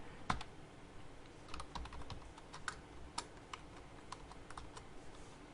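Quiet computer keyboard typing of CSS code, irregular soft key clicks in short bursts with small pauses, close but faint and without any talking.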